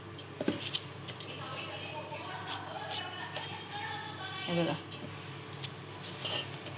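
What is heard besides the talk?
knife cutting watermelon pieces into a mixer jar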